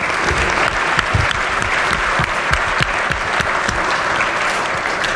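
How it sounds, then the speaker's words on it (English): Round of applause in the West Virginia legislature chamber, steady many-handed clapping that fills the room evenly for about five seconds, with occasional sharper nearby claps and no talking. "if they would please stand and give them a round of applause"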